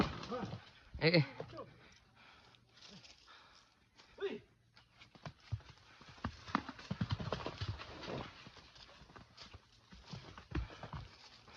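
Hooves clop irregularly over a steep, rocky mountain trail, a horse picking its way step by step while people talk and breathe heavily nearby.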